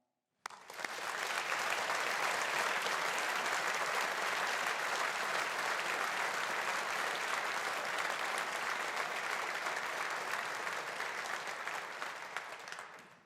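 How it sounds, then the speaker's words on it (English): Sustained applause from a large audience honoring graduating engineering alumni at a faculty graduation ceremony, a dense steady wash of clapping that holds evenly for about twelve seconds before tapering slightly at the end. "So let us all show our appreciation with a collective round of applause for our alumni."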